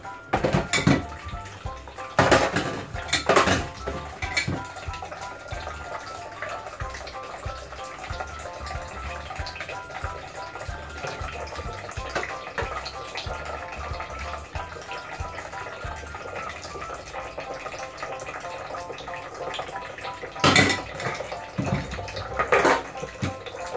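Washing a spoon and other dishes at a sink: running water and repeated clinks and clatters of cutlery against pots and plates, with louder bursts of clanking near the start and again near the end.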